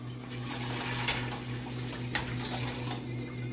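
Two liters of water going into a pressure cooker pot for beef soup, a steady running-water wash over a constant low mechanical hum, with a couple of faint clinks partway through and no talk.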